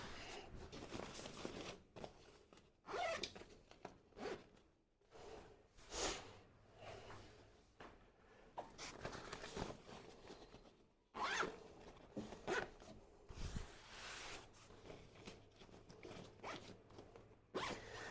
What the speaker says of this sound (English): pull them through the slits in the link sheet, close the zips up